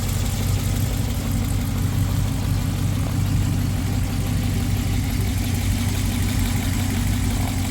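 A 2012 Ram 1500 with the 5.7 engine idles steadily, a loud, even low rumble holding constant throughout with no speech.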